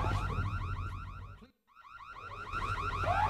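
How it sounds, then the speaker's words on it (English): In the Secret World Legends video game, a car alarm wails loudly with rapid repeating warbling sweeps, cutting out briefly before resuming just as loud. "shut that fucking alarm off"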